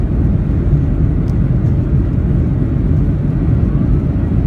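Ryanair Boeing 737-800 engines at full takeoff power, heard from inside the cabin on the runway at Stockholm Skavsta as a loud, steady, broadband roar and rumble that holds throughout.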